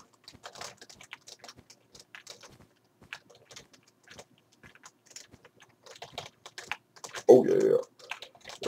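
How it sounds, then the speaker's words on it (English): Quick, light computer keyboard clicking runs in irregular bursts through the stretch with faint talk mixed in, ending in a louder, fuller burst of sound. "you're probably hearing all this clickety clackety clickety clackety"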